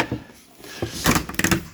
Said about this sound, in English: That's the man door.